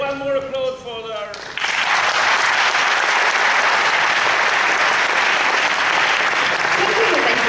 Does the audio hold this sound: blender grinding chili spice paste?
no